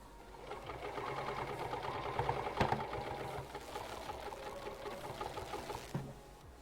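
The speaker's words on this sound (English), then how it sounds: "I'm still going to do my standard stitch backwards a little bit" A sewing machine runs steadily with a rapid mechanical stitching rhythm while backstitching on a travel bag, close by, with a brief louder clack partway through.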